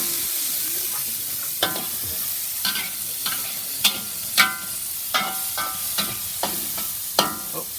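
Onion and ginger fry with Indian spices in a pan, a constant sizzling hiss punctuated by sharp scraping clacks of a utensil stirring at irregular intervals, close and without talk.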